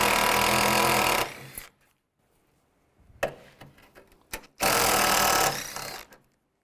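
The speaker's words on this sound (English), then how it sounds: "These two bolts, use a 10mm socket." A socket wrench working on radiator bolts of a 2002-2009 Chevy Trailblazer, heard as two long bursts of loud, dense ratcheting with a quieter stretch of scattered clicks and knocks between them.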